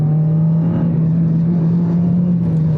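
A Honda FD2 Civic Type R engine drones loud and close at a high, steady pitch that rises only slightly, held near redline throughout with no voices.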